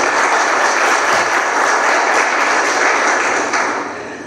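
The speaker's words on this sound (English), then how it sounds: "I want to thank the audience for clapping before I asked you" Audience applause at a master class for African tax leaders, a steady dense wash of clapping from a large crowd that holds loud throughout and begins to fade at the very end.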